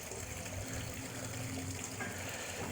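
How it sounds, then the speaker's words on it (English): A pond pump in a small front-yard pond pushes water through a hose to a filter, producing a constant, soft, even gurgling trickle with no breaks. "It pumps the water through a hose that goes up here to the filter"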